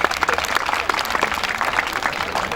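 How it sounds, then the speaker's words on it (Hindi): An audience at a National Voter's Day 2015 gathering claps loudly and steadily for cross-country race winners, a thick, even patter of many hands filling the whole moment. "ताली बजा दीजिए जरा जोर से।"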